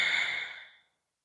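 A single soft, long exhale during a held seated yoga twist, breathy and close, fading out within about a second with no talk.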